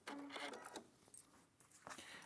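A sewing machine stitches scrappy quilt strip sets together in a quick, faint run of mechanical whirring and clicking, with a short pause in the middle before the stitching resumes.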